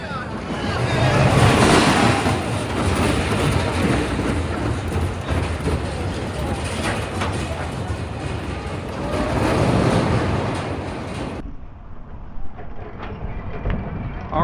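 Roaring ride noise on the Hurricane roller coaster at Fun Spot America Atlanta, a loud, sustained rush of wind and rattling track that swells and fades for about eleven seconds before dropping to a quieter rumble.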